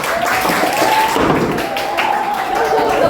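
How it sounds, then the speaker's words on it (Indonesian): A classroom of students claps together in a steady, dense patter that fills the room, mixed with chatter and a few laughs. "Berikan tepuk tangan."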